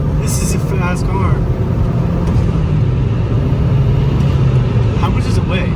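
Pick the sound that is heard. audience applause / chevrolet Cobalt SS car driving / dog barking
chevrolet Cobalt SS car driving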